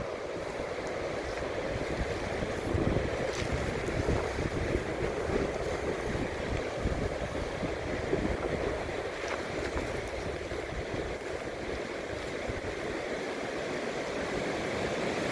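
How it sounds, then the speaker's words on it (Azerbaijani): Rushing water at the confluence of two rivers, a big one and a small one, heard as a steady broadband roar with wind buffeting the microphone, continuous and unbroken for the whole stretch, with no one speaking. "Çayqovşan buradır, iki çay qovuşur."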